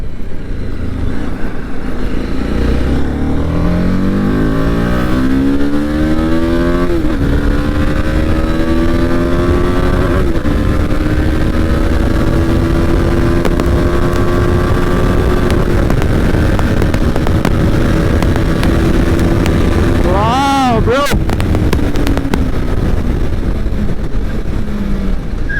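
A Kawasaki Ninja H2 superbike engine revs hard and loud, with sweeping rises and falls in pitch as the throttle opens and closes, then one sharp high blip near the end.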